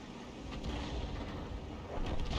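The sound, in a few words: tank cannon firing in a tank video game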